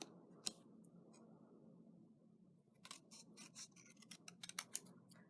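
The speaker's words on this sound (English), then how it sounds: "you can just cut the edge of the circle on both sides" Scissors snipping around the edge of a small paper circle cut for a shamrock craft: a single crisp snip, a quiet pause, then a quick run of close, sharp cuts that grows busier toward the end.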